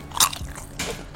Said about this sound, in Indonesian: Dia keras, digigit crispy dalam plastik.